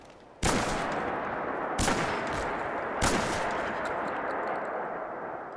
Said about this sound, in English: Man, that gun is loud.